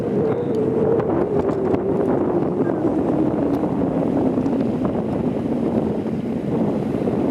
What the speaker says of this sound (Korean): 지금 바람도 많이 불고 있어서